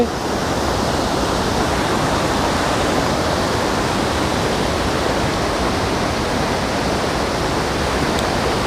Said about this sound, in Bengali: এত জলের স্রোত তোড়ে আসছে আর এখানে গিয়ে একটা জায়গায় ধাক্কা খাচ্ছে